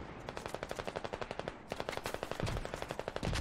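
Rapid automatic gunfire in the video game Squad sounds as a long, steady burst of evenly spaced shots, loud and close, with a second weapon joining partway through.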